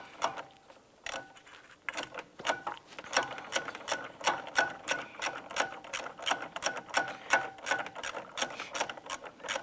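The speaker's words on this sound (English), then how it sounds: "Use your ratchet, and we want to snug all these down." Hand ratchet snugging plastic-clip radiator bolts on a 2005–2007 Ford Five Hundred, a rapid run of sharp, evenly spaced metallic clicks heard close up, with no talk.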